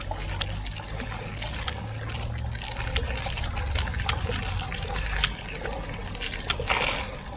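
Water trickles steadily through a Sawyer Mini filter into a bottle outdoors. A continuous close splashing and gurgling goes on, with small irregular drips and clinks throughout.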